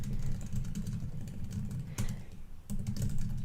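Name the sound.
typing on a computer keyboard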